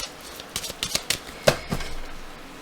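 Oracle cards are cut and shuffled by hand, giving a quiet series of crisp flicks and riffling snaps in uneven bursts, close and faint, with no voice.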